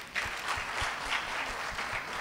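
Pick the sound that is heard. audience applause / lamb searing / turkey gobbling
audience applause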